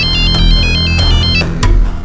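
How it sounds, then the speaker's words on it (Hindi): A telephone rings on an outgoing call, a loud repeating electronic ringtone with a steady tonal pattern that fills the whole moment, with no talking over it. "फिर मैंने सविता को फोन किया।"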